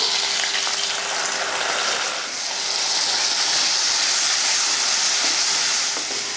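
Loud, continuous sizzling of ground coconut paste frying in a hot pan, a steady close hiss with faint stirring scrapes.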